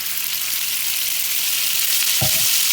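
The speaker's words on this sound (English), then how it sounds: "So, what I'm gonna do is I'm gonna sear them off first." Cornish game hens searing in garlic-infused liquid margarine, giving a steady loud sizzle throughout with a brief clunk of the pan or utensil near the end; no talking.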